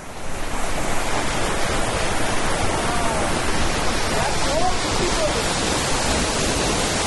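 A mountain waterfall fed by melting snow in Kinnaur on the Spiti Valley route roars as a steady, dense rush of water close by, a voice faintly audible beneath it.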